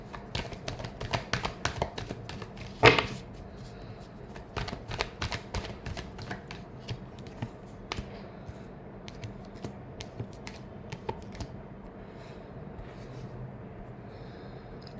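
A deck of tarot cards is shuffled by hand at close range, giving rapid crisp flutters and taps that thin out into scattered light clicks, with no talking.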